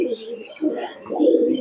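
Pakistani high-flying pigeons coo in a short, close run of soft, throaty, rolling calls.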